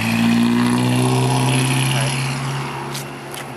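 Road traffic passing near a driveway, with a steady, fairly loud engine drone of vehicles going by close at hand that eases off toward the end.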